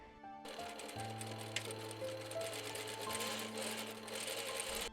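A sewing machine stitches a seam below the zipper mark on a wrap dress, running steadily and close at moderate volume for the whole stretch with no talking.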